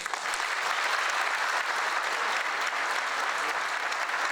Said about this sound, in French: Le discours de la maire du conseil municipal jeune a été chaleureusement applaudi.